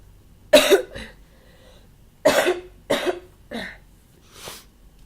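A person with a lingering cold coughs several times in separate bursts, loud and close, with short quiet pauses between and a softer final cough.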